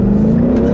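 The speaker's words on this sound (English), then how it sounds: "I'll leave you guys with a nice little acceleration here, like I always do" A Ford Mustang accelerates hard uphill in second gear, its engine a loud, close, steady drone climbing slightly in pitch, with no voices over it.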